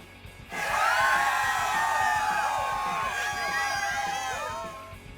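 A crowd cheers and whoops in Wreckfest, a racing game, in a steady, somewhat synthetic wash of many voices, holding for several seconds over a low background rumble.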